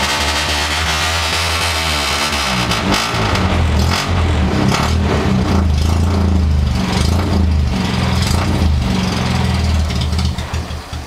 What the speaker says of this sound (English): this engine doesn't idle very good when it's cold